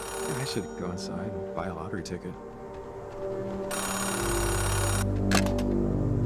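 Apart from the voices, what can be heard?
payphone ringing in the video game Oxenfree II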